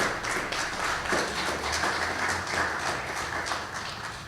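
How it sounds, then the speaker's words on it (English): An audience claps at a sickle cell event with sustained, fairly loud applause whose individual claps patter evenly throughout. "Big round of applause."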